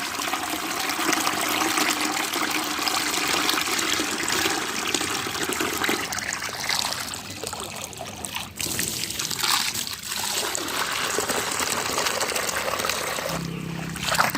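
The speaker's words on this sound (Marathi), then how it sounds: "मनसोक्त असं पाणी मी पत्र्यावर मारलेलं आहे" Water from a hose sprays hard onto a cement roof sheet, a dense, steady hiss and patter that fills the whole stretch, briefly changing near the end.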